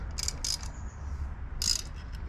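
A wrench ratchets in short clicking bursts while tightening alternator bolts on a 1971 Chevrolet El Camino, two quick runs of clicks, then a pause and another run, close up.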